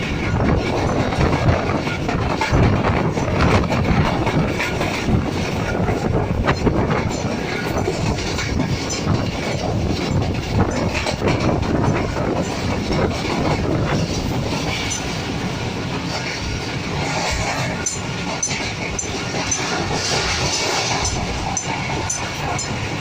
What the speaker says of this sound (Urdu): اور ٹرین ہے یہ چلی.